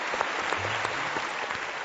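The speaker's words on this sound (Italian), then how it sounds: "applauso a Daniele De Rossi a Propaganda Live" A short burst of steady studio audience applause for Daniele De Rossi on the talk show Propaganda Live, even and moderately loud with no talk over it.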